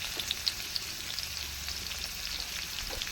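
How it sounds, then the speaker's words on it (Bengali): Chopped chili sizzles steadily in a thin layer of oil alongside tomato, a constant close frying hiss with small pops, no talking. "লঙ্কা কুচি দিয়ে দিলাম"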